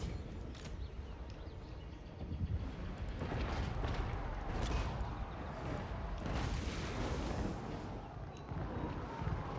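Artillery fire in Total War: Warhammer 2, a rumbling series of distant booms and bursts layered over constant battlefield noise, fairly quiet overall.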